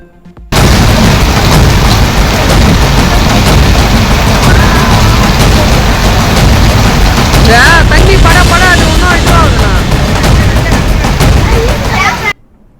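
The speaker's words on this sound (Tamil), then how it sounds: "சென்னை வியாசர்பாடி கணேஷ்புரம் தெருவில் வெடித்து சிதறிய மின்சார பெட்டி" An electrical junction box explodes on Ganeshpuram street in Vyasarpadi, Chennai, giving a loud, sustained run of crackling bursts and booms for about twelve seconds, with voices faintly in the background.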